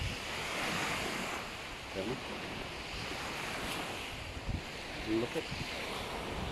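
Sea waves wash steadily at a beach chalet in Kuwait, a broad surf hiss with wind buffeting the microphone and brief voices talking over it.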